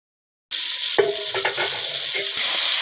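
Tomato and onion fry in a pan for a fish curry, giving a steady close sizzle that starts abruptly, with a few scraping stirs breaking through partway.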